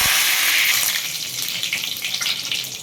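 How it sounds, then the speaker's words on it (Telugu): Curry leaves frying in hot oil, an intense loud hiss and spatter right up close, steady for a few seconds before easing slightly, with no voices. "ఇప్పుడు కరివేపాకు కూడా వేయించుకోవాలి"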